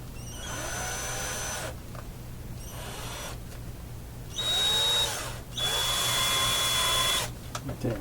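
An electric drill bores into an amplifier chassis in a workshop. The motor whines in several bursts with short pauses between them, and the pitch sags and climbs as the bit loads up. A steady low hum runs underneath, and no one speaks.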